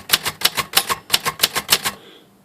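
Keys on a repaired Royal Safari Aristocrat typewriter strike in a quick run of sharp, crisp clacks, some carrying a faint tinny ring, then the sound stops and a brief hum trails off.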